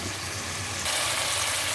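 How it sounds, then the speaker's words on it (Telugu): A mixie grinder motor whirs steadily, grinding a masala of cinnamon, star anise, poppy seeds, coriander seeds and fresh coconut, and grows louder partway through. "మసాలాను రుబ్బుతున్నాను అన్నమాట మిక్సీలో."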